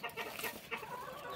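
Chickens clucking as they peck at the base of garden plants in Nicaragua, soft, irregular clucks close by, with a faint busy outdoor background.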